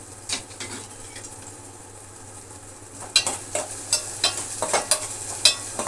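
Garlic sizzling and being stirred in a frying pan, with a low steady sizzle and a run of sharp scraping stir strokes that come faster and louder toward the end.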